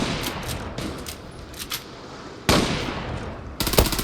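Gunfire in the online shooter game Zula, several sharp bursts of automatic shots spaced irregularly, with louder rapid volleys near the end, over a steady game background.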